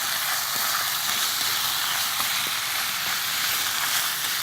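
Scored squid stir-frying in a hot pan gives a steady, dense hiss of sizzling close by, even in level throughout with faint scattered pops and no talk.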